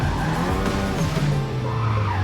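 A car drifts on snow during first-snow tandem runs, with a loud continuous tire squeal over a steady engine drone. A long sliding tone shifts in pitch throughout, close and unbroken.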